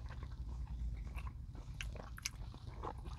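Close, quiet bites and wet chewing of a Taco Bell Double Steak Grilled Cheese Burrito with a grilled cheese outside, soft crunches and mouth sounds coming in an uneven rhythm without talk.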